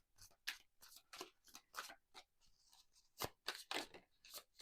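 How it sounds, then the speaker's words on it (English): Tarot cards shuffled by hand up close, a quick series of crisp riffling and slapping bursts in an uneven rhythm, fairly quiet and with no talking. "I was shuffling the cards"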